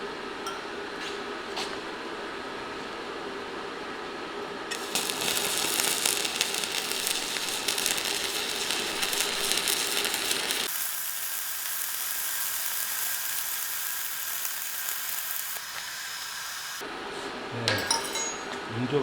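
Arc welding thin square steel pipe with a 3.2 mm electrode at 110 amps gives a steady, crackling sizzle close by. It starts partway through, runs for several seconds and ends with faint clinks of metal handling.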